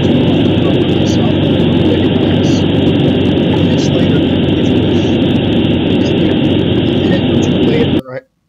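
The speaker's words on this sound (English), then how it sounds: "you can hear that the engine is shut off" A BMW engine with a suspected VANOS fault runs as a steady, loud, close low-frequency rumble, then abruptly cuts out on its own near the end, leaving silence.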